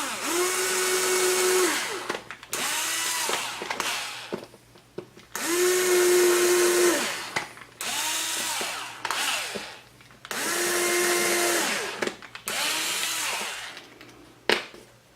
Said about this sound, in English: we're drilling a pilot hole in the wood, so we're going to use the 1/16 inch bit